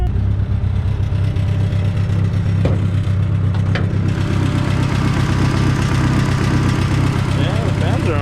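A Mitsubishi Eclipse idles with its cooling fans whirring steadily after overheating, a continuous close drone with a faint metallic rattle running through it.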